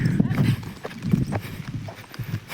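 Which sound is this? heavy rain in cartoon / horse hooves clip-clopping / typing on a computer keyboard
horse hooves clip-clopping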